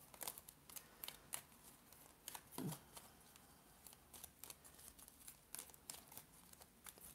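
Brisk riffling and soft flicking of playing cards being shuffled, close by, in several quick bursts with short pauses between.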